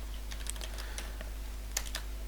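Code being typed on a computer keyboard for a Unity game tutorial, a quick, close cluster of light key clicks over a low steady hum, with no voices.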